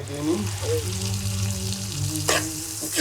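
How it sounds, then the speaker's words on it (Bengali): Spiced masala with potatoes sizzles and fries in a pan while a spoon stirs it, with a steady hiss and a few sharper scrapes and spits near the end, no talk. "মশলাটা ভালো মতো কষাতে হবে যাতে সব রকম ভালোভাবে মিশে যায়"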